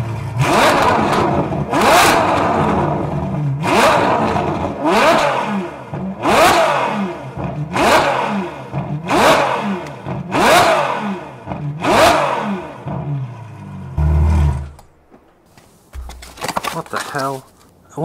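A Ferrari engine starts and revs repeatedly in sharp bursts, roaring up and dropping back about ten times, loud and close, before settling and cutting out.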